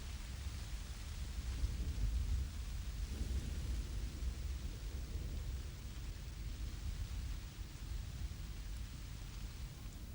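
Steady rain hisses continuously, a soft even wash of noise with a low rumble beneath, no voices.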